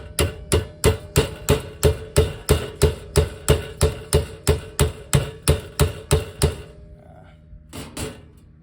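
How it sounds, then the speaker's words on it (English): A hammer strikes the sheet metal of a water heater during a relief valve and drain plug repair, about seventeen sharp, evenly spaced blows in quick succession, then a pause and two final hits. "Hammer doesn't seem to be making a whole ton of progress on this at the moment"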